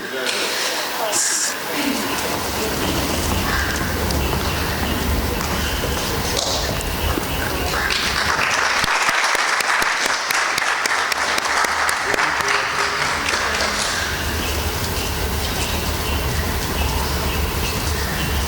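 Sustained audience applause for student achievers receiving honours at a school felicitation ceremony, a loud, continuous wash of clapping filling the whole stretch with a brief lull and a voice heard faintly at times.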